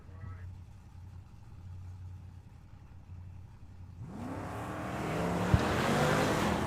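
Drag cars at a track, a 1963 Nova and a Mustang, build from a distant low engine drone into a loud, rising roar of accelerating race engines in the last few seconds, with talk over the sound.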